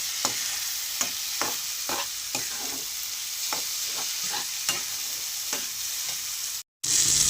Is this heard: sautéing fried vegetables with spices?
yes